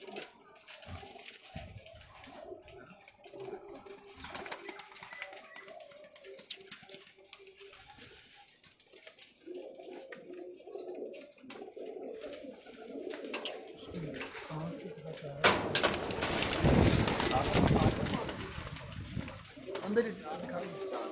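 Pigeons cooing softly in a loft in Lahore, with low murmuring coos and some wing flutter rising toward the end, while people talk in the background.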